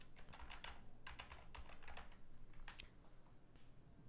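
Quick bursts of keystrokes as code is typed on a computer keyboard, soft and close, with short pauses between clusters of taps in a quiet room.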